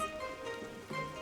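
Rain falls steadily in a cartoon scene, a soft, even wash of drops heard alone at low level.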